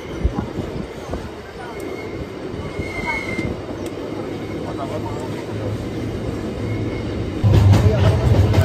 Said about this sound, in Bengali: এবার ক্রসিং করবে একটা সুন্দর একটা রেল ব্রিজ